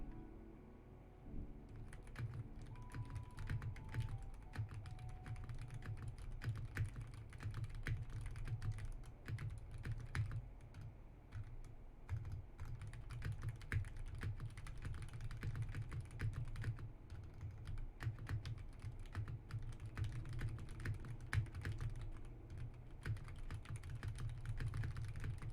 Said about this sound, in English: Okay, let's type. Let's test this out.